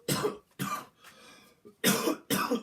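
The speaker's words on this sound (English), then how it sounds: "Excuse me, smoker's cough." A smoker's harsh, raspy cough comes in several close, loud bursts separated by short pauses and a rough, gravelly breath between them, with no talking.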